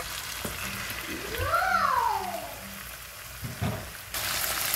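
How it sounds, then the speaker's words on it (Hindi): Chicken pieces hit a hot pan of frying ginger-garlic and chili paste for chilli chicken, raising a steady, moderately loud sizzle with a brief whistling tone partway through and faint clatter near the end. "अब हम इसके अंदर चिकन ऐड कर देंगे।"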